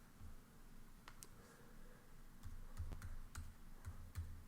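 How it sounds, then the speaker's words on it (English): Keys clatter on a computer keyboard in a quiet room, giving faint, irregular taps with a few quicker bursts of clicks toward the end and no talking. "so let's type that in"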